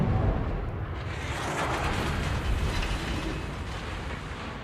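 Naval gunfire firing SAP shells from a Tier 6 Italian destroyer in World of Warships, heard as a dense, rumbling explosive roar that swells at the start and then fades slowly into a sustained low boom.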